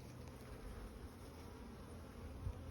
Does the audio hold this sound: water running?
no